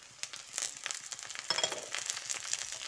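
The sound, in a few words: frying crushed ginger and chopped garlic with onion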